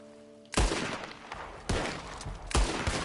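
Three loud, sharp gunshots in Red Dead Redemption 2 ring out about a second apart, each with a booming echo that trails off. The first breaks a quiet stretch of faint tonal ambience.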